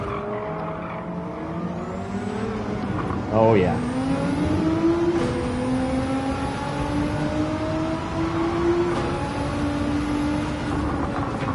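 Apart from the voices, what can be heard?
video game race car anti-lag engine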